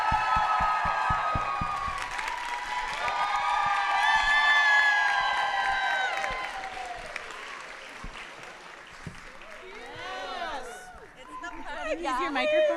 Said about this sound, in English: why don't we give a round of applause to Miss Kristen herself?